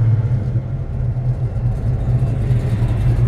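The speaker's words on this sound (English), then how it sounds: "Push the button again and hold it for about 2 seconds. One, two, the car fires right up." A 1970 Chevrolet Chevelle SS V8 runs with a steady, loud, low rumbling idle, close by and unbroken, with no voices over it.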